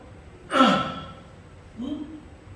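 During a sermon, a preacher imitates heavy panting: a loud, breathy gasp that trails off, then a second, softer exhaled breath about a second later.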